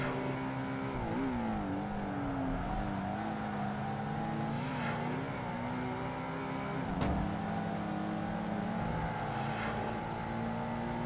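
A Porsche engine drones steadily through a race in Project Gotham Racing 2, its pitch climbing and dipping with gear changes, loud and continuous with no talk.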